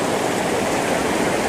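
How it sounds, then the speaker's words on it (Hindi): Loud, steady rushing roar of the fast-flowing Neelum River in Azad Kashmir, a dense continuous wash of water noise filling the whole clip with no voices. "यहाँ पे पानी का बहुत ज़्यादा शोर है और पानी का दबाव चेक करें"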